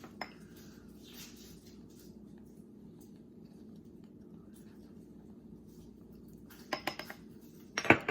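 Measuring spoons clink against a small bowl while garlic powder and paprika are measured out for a seasoning mix; a quiet stretch with faint rustling, then a few close, bright metallic clinks near the end.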